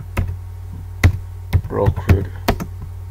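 A computer keyboard clatters with a handful of distinct, irregular keystrokes as someone types a stream name, with a voice speaking briefly between the taps.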